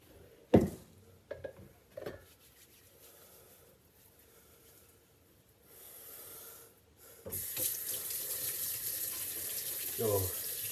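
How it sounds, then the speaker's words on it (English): Water runs from a tap into a sink during handwashing, first in a few brief splashes and clatters, then a steady broadband rush that continues to the end, close by with no talk. "I'm washing my hands."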